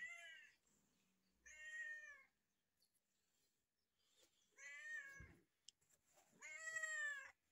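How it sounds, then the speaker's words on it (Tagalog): A cat meows four times in drawn-out, insistent cries with pauses between them, close by and fairly loud over quiet surroundings. "Yung pusa palaging sumisigaw."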